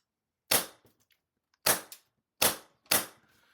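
An MTW9 airsoft gun fires BBs into a BB catcher, four sharp close snapping shots in quick uneven succession, loud against silence.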